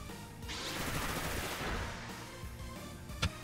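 Bullet Seed attack in the Pokemon Scarlet and Violet video game, a dense rapid-fire rattle of game effects that holds for about three seconds and ends in one sharp hit.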